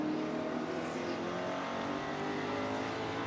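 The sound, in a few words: Ford Mustang race cars with 427 engines at Sebring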